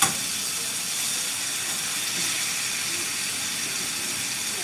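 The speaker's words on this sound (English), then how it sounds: "it should sear just like that" A T-bone steak sears in a hot pan, giving a steady, close sizzling hiss that holds evenly throughout without pause.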